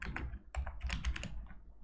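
Code being typed on a computer keyboard, a quick close burst of crisp key clacks in an uneven rhythm, quiet and with no talking.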